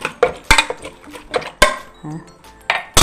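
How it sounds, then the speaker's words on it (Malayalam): Potato masala filling for masala dosa is stirred in a pot, with close, loud, uneven clanks and scrapes of a metal spoon against the pot and faint background voice traces. "നമ്മളൊന്ന് ഇളക്കി കൊടുക്കുകയാണ്."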